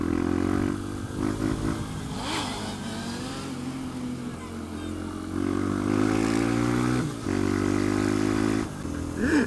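Motorcycle engine revving hard during burnouts, a loud continuous drone with rising and falling pitch sweeps, several quick rev surges near and steady throughout.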